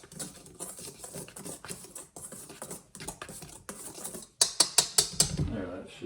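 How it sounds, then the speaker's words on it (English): Dry scone ingredients whisked in a bowl: a quick run of light scraping and ticking taps, turning into louder, sharper metallic clinks of whisk against bowl near the end. "Now we'll just whisk this up."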